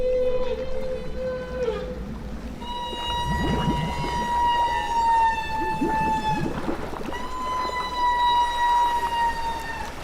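Humpback whales bubble net feeding on herring give long, haunting tonal calls that rise and hold steady in sustained wails, loud and overlapping with underwater rushing noise.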